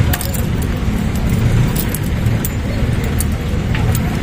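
A Honda Wave 110 key jangles on its ring while being tried in a Honda Supremo motorcycle ignition, giving a loud, continuous metallic rattle with sharp clicks, close up, over steady background noise and a speaking voice.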